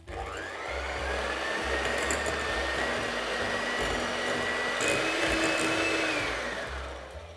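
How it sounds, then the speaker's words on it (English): An electric mixer beats soft butter and sugar for a Persian love cake, a steady loud motor whine with a rough whirring texture that holds for several seconds and then eases off. "Going to mix this up for about 2 minutes till it's nice and soft and fluffy."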